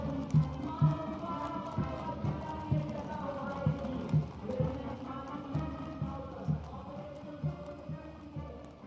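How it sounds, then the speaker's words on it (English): Hooves from a mounted cavalry contingent clop steadily on the parade route at a Republic Day parade, sounding at a regular walking rhythm under a voice and the noise of the crowd. "mounted on magnificent gleaming steeds, the 61st Cavalry Contingent, led by Captain Ahan Kumar"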